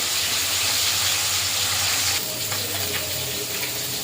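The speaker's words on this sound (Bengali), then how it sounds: "কড়াইটা গরম হয়ে গেছে, কড়াইতে তেল দিয়ে দিয়েছি। এবার মাছগুলো ভেজে নেব।" Loud, steady sizzling of rohu-type carp pieces frying in hot oil in a wok, the crackle easing slightly partway through, with no voices.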